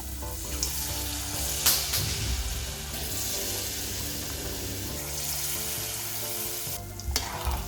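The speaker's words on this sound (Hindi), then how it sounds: "पकोड़े तल लेते हैं इसके।" Palm fruit fritters deep-frying in hot oil over medium heat, a dense continuous bubbling sizzle close by, with brief scraping bursts from a spoon or turning, and no voices.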